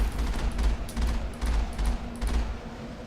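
Automatic gunfire in the video game Mass Effect comes in repeated short bursts of rapid shots, about five clusters close together, punchy and low-heavy, with no voices.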